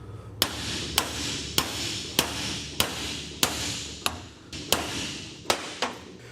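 Sharp metal hammer blows strike a double cardan U-joint on a 1996 Toyota 4Runner, about ten ringing hits at a fairly even pace, close and clear with no talk.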